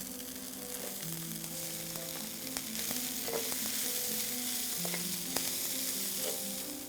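Ingredients for masala rice frying in a pan, a continuous, fairly soft sizzle with occasional light clicks of stirring, heard up close with music playing quietly beneath and no speech.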